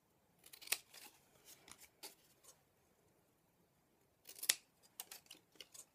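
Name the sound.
scissors cutting off excess card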